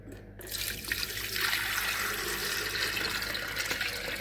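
RO water pours steadily from a tap into a kettle, a continuous rushing splash that begins abruptly and holds level throughout.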